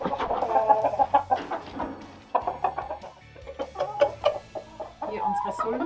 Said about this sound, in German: Drinnen sieht man ein Zwerglachshuhn und einige Steinpipperl sind mitten darin.